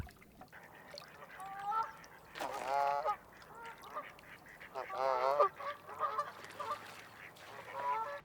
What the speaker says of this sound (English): It has its own duck pond, and you can feed the ducks breakfast too while you're here.